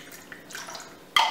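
Olive juice poured into a dirty martini in a shaker: a faint, soft trickle through the middle, then a louder, brighter splash near the end.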